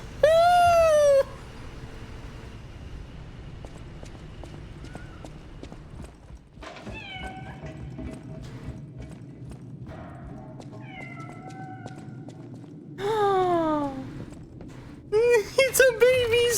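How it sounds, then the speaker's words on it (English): Kitten meowing in the game Lies of P, a few high, bright mewls spaced out over a quiet ambient background, with clip-clop sounds and speech in between. "Oh, kitty! Oh, it's a baby kitty!"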